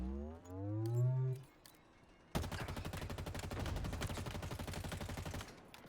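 Halo game gunfire bursts out after a brief low tonal sweep, a dense rapid run of close, loud shots lasting several seconds before cutting off abruptly.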